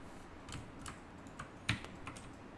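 Computer keyboard shortcuts being pressed, a quiet run of close, scattered key taps with one sharper clack, and no talking.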